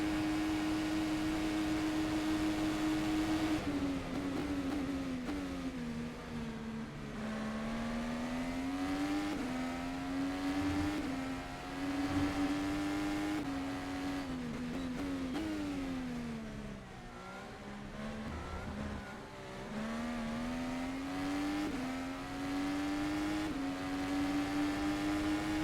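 Dallara IR-18 IndyCar in rFactor 2 lapping Daytona, a steady loud engine drone whose pitch rises and dips through gear changes and corners, continuous from start to finish with no talk.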